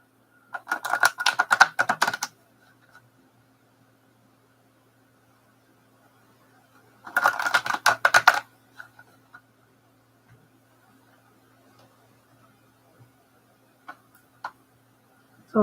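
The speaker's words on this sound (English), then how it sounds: "I feel like I gotta shuffle some more." Two bursts of rapid riffling tarot card shuffles, each about two seconds, separated by quiet, with a few faint taps near the end.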